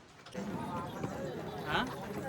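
A horse's hooves clip-clop faintly in a steady walking rhythm during a ride near a lake in Mahabaleshwar, with people talking over them.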